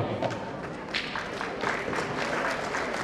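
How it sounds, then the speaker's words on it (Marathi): Applause from the audience at a chess tournament prize ceremony for the winners, a steady dense patter of clapping filling the room for about three seconds with no clear voices over it. "विनर्ससाठी आणि तुमच्या सगळ्यांसाठी टाळ्या आहेत"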